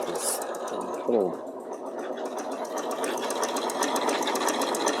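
A sewing machine runs steadily through the whole stretch, sewing a blanket stitch along the edge of a quilt block piece, its fast mechanical chatter continuous, with a person talking over it.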